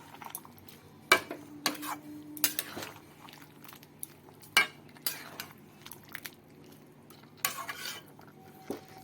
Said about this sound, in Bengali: দিয়ে বেশ ভালো করে আবার নাড়াচাড়া করে মিশিয়ে দেব 5 মিনিটের জন্য।